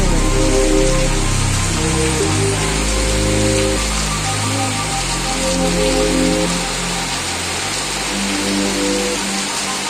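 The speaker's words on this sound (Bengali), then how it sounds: "খুব জোরে বৃষ্টি হচ্ছে।" Heavy rain pours down in a loud, continuous roar, with low tonal engine-like sounds rising and falling underneath throughout.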